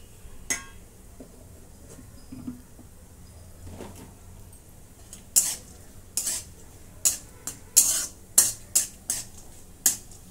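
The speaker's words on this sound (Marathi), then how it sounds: "आता याच्यात काजूचे आणि बदामाचे तुकडे थोडंसं हलकंसं भाजून घेते." Cashew and almond pieces are lightly roasted in a pan; after a quiet start, a spoon scrapes and stirs them in a run of sharp, close, rhythmic strokes.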